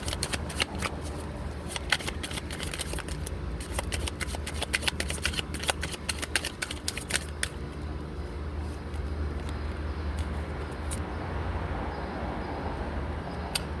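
Tarot cards being shuffled by hand, a steady papery riffling and rubbing that runs continuously at moderate level with sharp flicks clustered early on and no talking.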